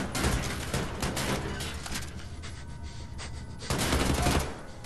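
Shrapnel rounds fired in the video game Wolfenstein: The New Order make loud, dense bursts of gunfire, one volley at the start and another near the end, with a quieter gap between them.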